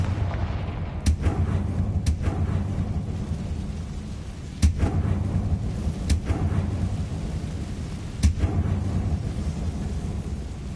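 Spell explosions from the Confringo fire spell in Hogwarts Legacy land as several sharp booms spread across a continuous rumbling game background.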